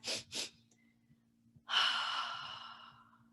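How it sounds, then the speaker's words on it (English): Two quick sharp nasal inhales followed after a pause by a long, audible sighing exhale, the double-inhale physiological sigh breathing pattern, close and without talk. "I recommend the physiological sigh, that."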